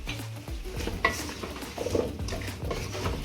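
Curry-coated potatoes are stirred in a pot: a spoon scrapes and clinks against the metal under a soft sizzle, with irregular bursts of stirring.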